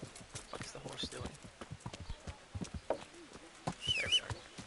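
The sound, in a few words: horse Shadowmare hooves walking in a video game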